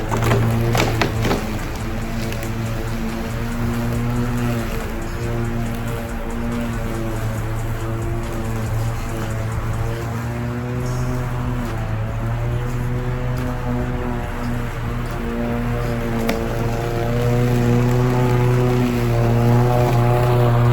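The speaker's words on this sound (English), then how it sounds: "So let's see what this electric blower can do." A Greenworks electric lawnmower runs steadily on a large grassy plot, a loud, close, even motor hum with a constant whine that barely changes throughout.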